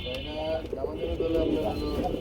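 A male black Bombay pigeon coos toward a female, soft repeated throaty calls close by, mixed with other birds' cooing and background voices at a pigeon farm.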